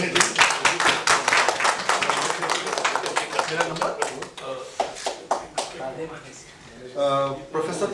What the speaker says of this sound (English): So let's clap for these dignitaries.